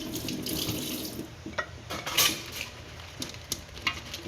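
Tap water running over chili peppers in a sink, a close steady splash with occasional clinks and knocks as they are rinsed.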